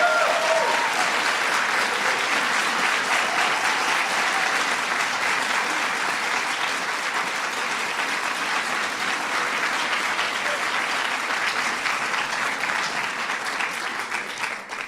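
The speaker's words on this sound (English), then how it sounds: "Give her a big round of applause." A large audience at the Kennedy Center Honors reception applauds in a long, dense, even roar of clapping that holds steady and loud, easing slightly only at the very end.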